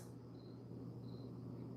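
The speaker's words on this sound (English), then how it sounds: "Hear those peepers? I love that." Spring peeper frogs chirping outdoors, a faint thin repeated high peep drifting in from a distance over a steady low hum, with no voices.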